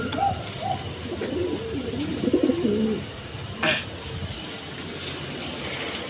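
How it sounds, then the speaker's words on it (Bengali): Pigeons of various breeds cooing at a pigeon exhibition, several low rolling coos in a row under a busy crowd murmur, with a brief sharper noise midway. "দেখেন বিভিন্ন বিটের কবুতর আছে"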